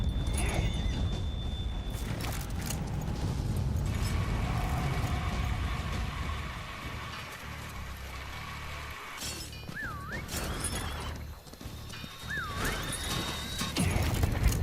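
A horse in a video game gives two short whinnies late on, over a dense bed of game noise with hoof clatter, crashes and mechanical sounds, fairly loud throughout.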